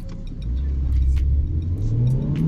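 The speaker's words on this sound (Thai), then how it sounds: "ตอนนี้เราจะมาลองอัตราเร่ง 0 ถึง 100 กิโลเมตรต่อชั่วโมง ของ A 2 0 0 AMG นะครับ ในโหมด Comfort นะครับ" A Mercedes-Benz A200 AMG sedan with a 163-horsepower engine pulls away in Comfort mode, its engine note climbing steadily as it accelerates, loud and close from inside the car.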